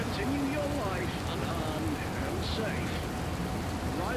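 Rain falls steadily in the video game Born Punk, a constant hiss of downpour with soft tonal sounds drifting over it throughout.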